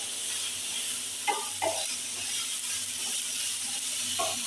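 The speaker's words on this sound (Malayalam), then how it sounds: "കരിവേപ്പില നല്ലവണ്ണം വഴറ്റുക." Curry leaves frying in a pan with crushed garlic, ginger and green chili, a steady close sizzle broken by a few scraping stirs of a spoon.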